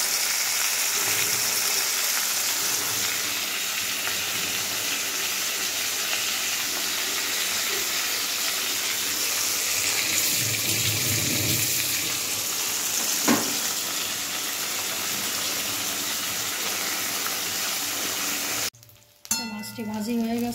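Hilsa fish frying in hot oil with a loud, continuous crackling sizzle close to the listener, steady for most of the duration before cutting off briefly near the end.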